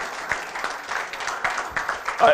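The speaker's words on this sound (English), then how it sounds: "Can we give the governor another round of applause?" A symposium audience gives the governor another round of applause, scattered, fairly sparse claps with gaps between bursts, rising a little toward the end, with a voice faintly present.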